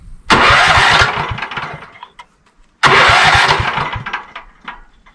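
An engine set with too low an idle, on the verge of stalling, fires up loudly with chugging pulses twice, each burst lasting about a second and then sputtering and fading as it dies away.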